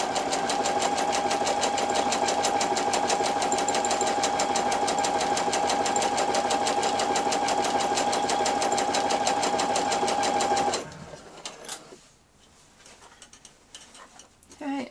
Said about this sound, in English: just keep adjusting the t-shirt as you're stitching around the edge.